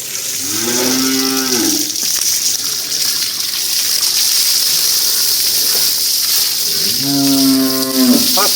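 Two loud, drawn-out moos from a calm, seven-month pregnant dairy cow on a farm, one near the start and another near the end, with steady running water gushing in the background between them.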